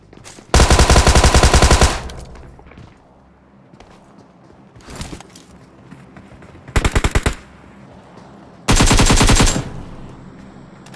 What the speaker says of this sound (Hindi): मैंने यहाँ पे फायरिंग की ताकि बंदे आएँ